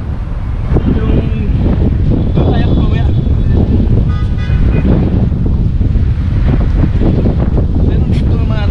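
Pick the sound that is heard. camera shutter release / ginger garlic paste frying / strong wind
strong wind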